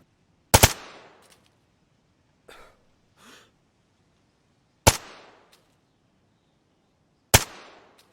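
Three loud, sharp shots from a suppressed, scoped rifle in the DayZ video game crack out at irregular intervals, each followed by a short fading tail, with soft breathy sounds in the gaps.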